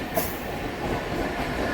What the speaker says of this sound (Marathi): या साईडून लोकल आली दुसरी